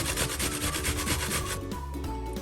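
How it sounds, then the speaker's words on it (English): An onion is grated by hand in a home kitchen. Close, rhythmic rasping strokes repeat quickly, then the rubbing turns smoother and slower toward the end. "straight away I'm going to grate my onion"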